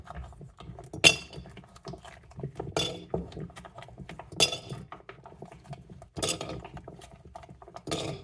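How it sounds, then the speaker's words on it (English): Paw-shaped ice cubes drop into a cup one by one, giving several sharp clinks spaced a second or two apart with faint handling rustle between them. "So I will fill my cup with ice cubes."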